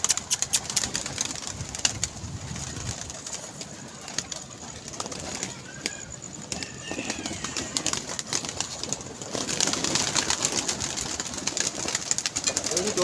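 Pigeons at a pigeon club coo and flutter amid outdoor background noise, with a few wingbeats as birds come down; a voice talks faintly at times.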